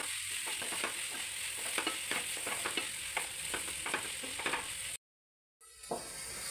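Onions seasoned with salt and turmeric fry in a curry pan for beef curry, a steady close sizzle broken by repeated stirring scrapes, with a brief dropout near the end and no talking.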